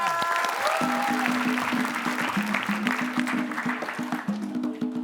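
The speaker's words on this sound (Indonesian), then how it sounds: "Boleh kasih tepuk tangan dulu ya" Audience applause on an Indonesian comedy show with Cak Lontong, steady and fairly loud, with a sustained musical tone running beneath the clapping throughout.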